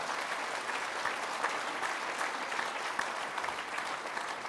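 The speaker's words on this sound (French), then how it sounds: "je voudrais qu'on applaudisse, bien entendu, la commune de Saint-Chamas et ses représentants" Applause at a 2026 New Year's greetings ceremony for the commune of Saint-Chamas and its representatives: an even, continuous wash of many hands clapping, fairly soft and distant, with no break.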